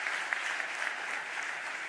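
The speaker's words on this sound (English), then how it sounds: "Give that another round of applause," An audience at a mayor's 2026 budget address gives a round of applause, steady dense clapping filling the whole moment without a break.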